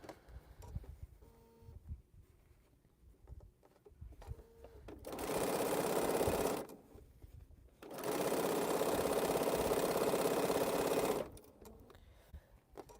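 A sewing machine stitching fabric strips for a mile-a-minute quilt runs in two long steady whirring bursts of several seconds each, with quiet handling and clicks of the fabric before, between and after.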